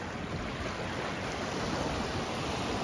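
Sea waves wash in over small rocks on a Konkan beach, a soft continuous surf hiss with faint wind, fairly distant and steady throughout.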